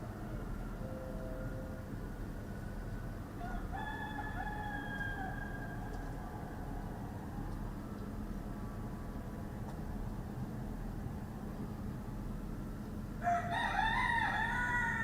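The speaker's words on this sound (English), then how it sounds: "Israelis don't have many roosters in their neighborhoods." Roosters crow several times in the distance, one faint call early, another around four seconds, then a louder, closer crow near the end over steady low outdoor hum.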